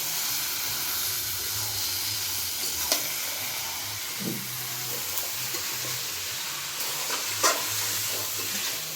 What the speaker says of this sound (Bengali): এখন আমি দিয়ে দেব কেটে রাখা মাংসগুলো। এখন একটু নেড়ে চেড়ে দিব।